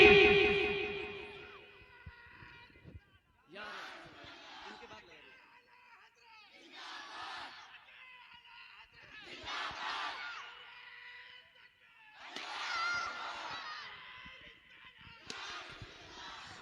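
A crowd at a religious gathering shouts back in unison after a Naara-e-Takbir call, several loud chanted bursts of many voices spaced a few seconds apart, following a single leading voice at the start.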